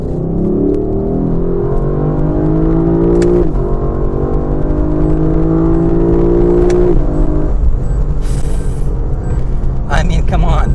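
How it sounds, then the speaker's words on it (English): Lexus LC500 V8 at full throttle in second gear, a loud, close engine roar whose pitch climbs steadily, drops briefly at two shifts, then climbs again as the car pulls hard. "So I'm in second gear, full acceleration."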